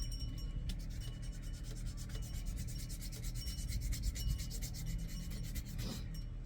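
Steady rasping scrubs of rough-grit sandpaper by hand on a wooden fishing lure outdoors, repeated in a fast even rhythm, close and fairly quiet with no voices.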